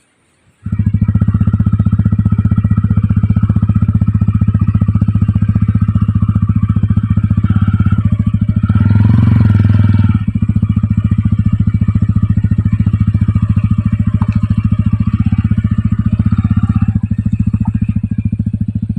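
Motorcycle with bags strapped on, riding from Malshej Ghat toward Dombivli on a rainy day: the engine starts abruptly and runs loud and close throughout with steady road rumble, a brief louder surge midway.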